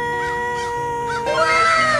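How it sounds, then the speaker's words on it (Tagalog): Crows caw outdoors near apartment buildings in Quebec, with a few harsh, arching calls that rise over a steady background hum and drone. "sumasabay na uwak"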